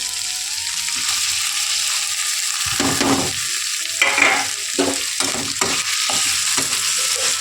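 Onion masala with tomato fries in a pan for egg fried rice, giving a steady close sizzle broken by several scraping stirs of a spoon against the pan.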